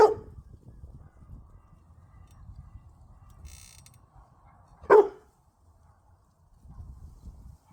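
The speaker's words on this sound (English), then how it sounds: "Right, the dogs are barking," Two sharp dog barks, one at the start and another about five seconds later, over quiet outdoor background with faint rustling.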